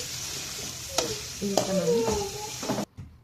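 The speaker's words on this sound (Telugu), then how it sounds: "పసుపు వేసి కలిపేసి స్టవ్ ఆఫ్ చేసేయండి" A spoon scrapes and stirs turmeric into a fresh coconut mixture in a pan with several distinct clanks, over a soft steady sizzle, ending abruptly.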